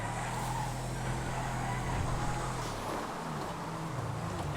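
A Ricoto car in GTA FiveM drives on steadily with a low, constant engine drone and road rumble, holding one even, fairly loud tone with no talking.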